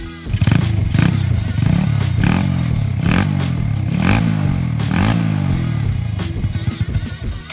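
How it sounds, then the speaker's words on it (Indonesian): Vega R New motorcycle engine starting up and idling nearby, a loud rhythmic putter with repeated revs and some mechanical clatter, no talk over it. "Coba ya kita kontak dulu, kita hidupin nyalain motornya. Kita dengerin suaranya"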